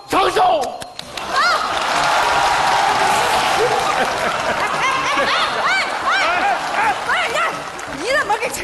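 An audience of neighbours applauds at a celebration for an elderly couple, with sustained clapping and scattered chuckles, and whistling tones sliding over the crowd noise. Voices can be heard briefly at the start.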